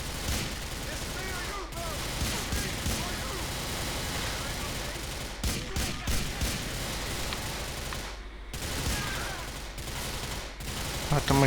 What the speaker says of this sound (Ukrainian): Да, он и прям активно стреляет, скажу вам честно.